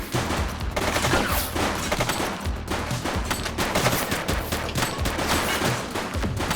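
A dense shootout in the police game The Precinct crackles with continuous rapid gunfire, overlapping volleys that stay loud and close for the whole stretch without any talk.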